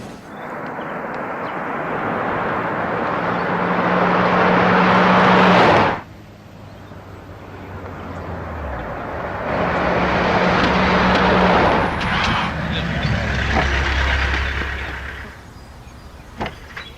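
A car being driven carries a steady, loud broadband rush of engine and road noise that drops abruptly after about six seconds, then builds again with changing tones.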